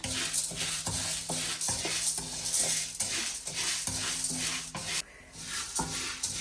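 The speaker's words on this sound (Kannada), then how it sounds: "ನಾನು ಸಪ್ರೇಟ್ ಆಗಿ ಹುರಿತೀನಿ ಯಾಕಂದ್ರೆ ಲಾರ್ಜ್ ಕ್ವಾಂಟಿಟಿ ಮಾಡ್ತಿದ್ವಲ್ಲ ಅಷ್ಟ ನೀಟಾಗಿ ಫ್ರೈ ಆಗತ್ತೆ" Chutney powder ingredients dry-roasting in oil in a pan, a steady sizzling hiss with scraping stirs and light rhythmic clatter throughout, close and continuous with no voices.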